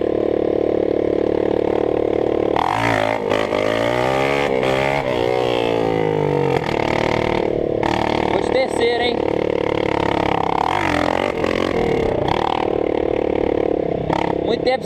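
A Honda CRF 230 dirt bike with a straight exhaust pipe is ridden through wheelie practice. Its engine barks and revs up and down repeatedly, rising in pitch and dropping back to idle, loud and close under occasional talk.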